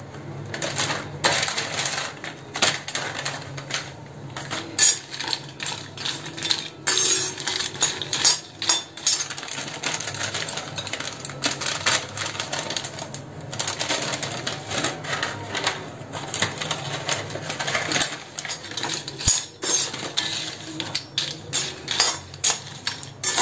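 Pieces of cinnamon bark are dry-roasted in a hot kadhai while being stirred, giving a dense run of close, dry clinks and rattles against the metal pan with no voice.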